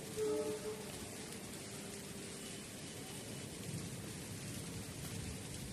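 Steady unseasonal rain hisses throughout, with a low rumble of distant thunder at the start fading beneath the continuous downpour.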